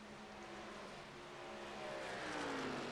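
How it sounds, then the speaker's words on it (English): A race truck engine at Chicagoland Speedway during a truck series race, a steady faint drone whose pitch slowly rises and swells as it draws nearer, heard alone without talk. "Take a very close listen to that engine"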